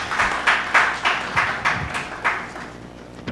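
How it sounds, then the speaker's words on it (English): At a speech festival session in Grenada, hands clap in a regular, rhythmic series of distinct claps that fade slightly toward the end, close and fairly clear with no talk over them. "Give yourself a round of applause."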